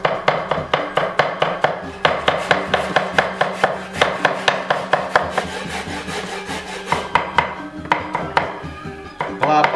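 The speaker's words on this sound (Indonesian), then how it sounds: "Jahenya sekarang, guys, ya, kita cincang juga kecil-kecil." Knife chopping ginger into small pieces on a wooden board while cooking a Balinese wild boar lawar, fast steady rhythmic chops, close and crisp, with a short pause near the end.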